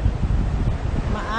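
Wind roars at the rough coast of Hirtshals in North Jutland, Denmark, low and heavy, while waves may wash underneath in one short burst.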